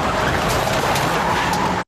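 A car roars through a film scene with continuous loud engine and tyre noise that holds steady, then cuts off abruptly at the end.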